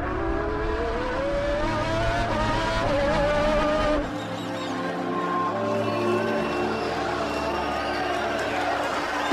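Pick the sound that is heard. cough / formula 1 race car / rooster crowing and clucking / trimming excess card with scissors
formula 1 race car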